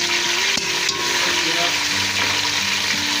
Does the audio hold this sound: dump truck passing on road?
no